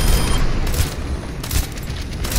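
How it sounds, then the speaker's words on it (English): Gunfire from the gunslinger in the video game Overwatch, Junkenstein's Revenge event, with loud, dense rapid shots and booming impacts running continuously in a short burst. "The gunslinger's shot found its mark."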